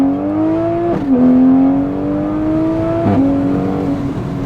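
A car running an E blend ethanol tune accelerates hard, its engine note climbing steadily through the gears with two brief dips at the shifts. It is loud and close, heard from inside the cabin with no talking.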